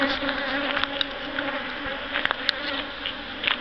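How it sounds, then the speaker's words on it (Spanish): Bees from a hive in an abandoned house give a steady, close buzzing drone with no let-up, with a few faint clicks and taps over it. "Aquí adentro hay unas abejitas. Como pueden ver, están vivas, se están moviendo."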